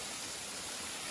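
Steady, broadband rush of a flowing stream or waterfall beside a mountain trail, faint and continuous for about a second with no talk.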